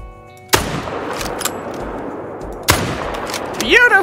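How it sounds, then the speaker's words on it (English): Two sharp, loud rifle shots ring out a couple of seconds apart while hunting whitetail deer in the Revontuli reserve of Call of the Wild, and each one trails off in a long echo before a voice cuts in at the end. "we're gonna shoot these two bad boys"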